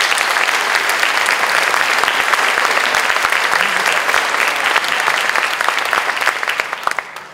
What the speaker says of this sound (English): So how about one more round of applause for everybody here?